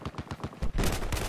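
Short bursts of rapid automatic gunfire from the video game Battlefield 4, loud and close. The shots come in a stuttering rhythm and run into a denser volley near the end. No speech.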